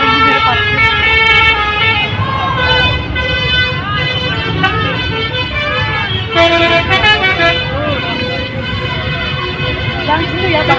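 Indonesian telolet bus horns blare loud and close, playing overlapping warbling melodic toots continuously, with crowd voices mixed in beneath.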